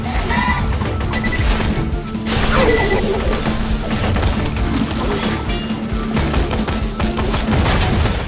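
Dense, rapid gunfire from a Borderlands 2 battle against the Wattle Gobbler rattles on continuously with crashing impacts and bursts, loud and close throughout.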